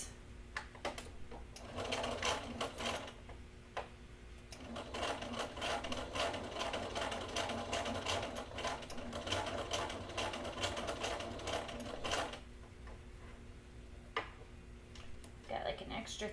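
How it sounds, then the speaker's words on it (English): A sewing machine stitches elastic onto fabric in steady whirring bursts with brief pauses, fairly close and continuous for most of the stretch, mechanical ticking underneath. "pulling it, and then I'm gonna sew right along"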